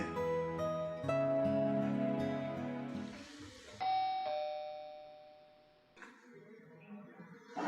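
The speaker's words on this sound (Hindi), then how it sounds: "डोरबेल की आवाज सुनी किसी ने?" An electronic doorbell chime rings inside a home, playing several clear, ringing tones in sequence. The sound is close and loud, and each note decays slowly.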